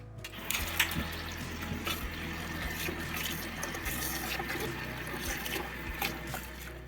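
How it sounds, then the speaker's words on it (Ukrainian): Steady running water splashes and swishes with small clinks as lentils are rinsed, with no voices. "беремо 300 грам сочевиці. Добре її промиваємо."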